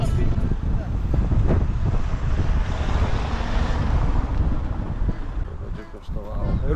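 Strong wind roars and buffets steadily, with gusty rumbling noise filling the scene and a voice speaking faintly underneath.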